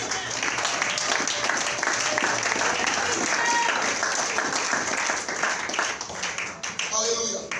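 A church congregation applauds the Lord with sustained, dense clapping that stays loud and steady throughout, like a crowd filling the room, before thinning out near the end.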